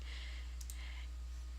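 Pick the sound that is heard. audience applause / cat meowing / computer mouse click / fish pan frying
computer mouse click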